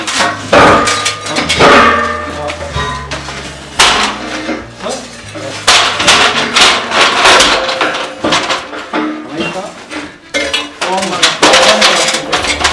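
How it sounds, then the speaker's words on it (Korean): A steel H-beam is worked into place with a pry bar during the reinforcement of a two-story brick building, giving irregular, loud metallic clanks and knocks close by, with occasional voices. "세지레대를 사용해 조금씩 빔을 안쪽으로 넣어줍니다."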